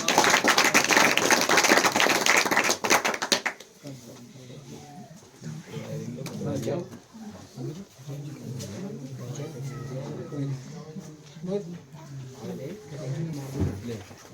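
An audience at a New Year celebration program claps loudly and briskly for about three seconds, then the applause stops and someone speaks over a quieter room.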